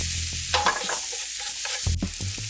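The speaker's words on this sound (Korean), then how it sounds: "소금 한 꼬집 그리고 후추를 넣고 간을 해줍니다. 같이 볶아주면 돼요." Pasta sauce seasoned with salt and pepper is stir-fried in a pan, a steady close sizzle broken by scraping stirs and a sharper clatter near the end, with no talking.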